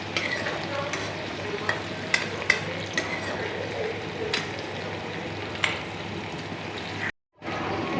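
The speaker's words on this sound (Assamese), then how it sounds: "আমি এতিয়া পিঁয়াজ আৰু বিলাহীখিনিও ধুনীয়াকৈ ভাজি ল'ম" Onion and tomato frying and being stirred in a pan for dal with papad, a steady close sizzle broken by occasional sharp clinks of the spoon, cutting out briefly near the end.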